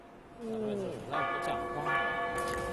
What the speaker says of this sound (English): a monk emerges from the dining hall and taps a gong under the eave